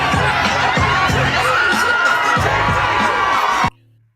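A large crowd at Madison Square cheers and shouts in a loud, continuous roar with whoops and chatter mixed in, then cuts off abruptly near the end.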